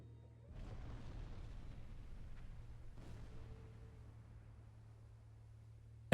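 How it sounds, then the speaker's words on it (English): Torpedo impact explosion in the Silent Hunter 4 submarine game: a muffled, distant boom that swells and rolls, followed by a second thud and a fading low rumble over a steady engine hum, no voices. "Torpedo impact."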